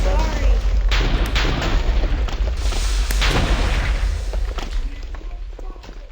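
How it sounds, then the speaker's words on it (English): Video game explosions and gunfire in a multiplayer shooter rumble through several heavy booms and thumps, layered with a player talking over the chaotic battle noise. "I could have saved that explosion for something else."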